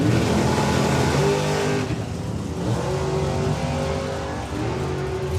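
Two drag racing cars, the Brute Force Sierra and the Magic Rack Camaro, roar loudly with sustained, rising engine revs that dip briefly and surge again, dense and continuous throughout.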